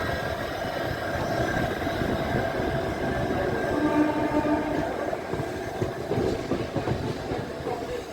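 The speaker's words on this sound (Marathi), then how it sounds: "आणि आता आपण मिरज जंक्शनवरून डिपार्चर झालेलं आहे" A DEMU train pulls out of Miraj Junction on the Miraj–Kolhapur line, a loud, steady onboard rumble with a faint rhythmic clatter of wheels on track throughout.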